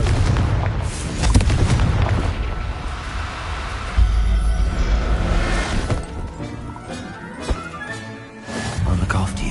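A Confringo blasting curse explodes in Hogwarts Legacy, a loud booming burst amid ongoing game effects and crashes, with a character's voice over the blasts.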